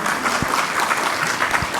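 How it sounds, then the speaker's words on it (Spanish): A steady burst of applause from a group at a panel discussion on the IEPS tax, dense and continuous clapping throughout with no voices standing out. "adelante con el aplauso si gustan, no hay ningún problema."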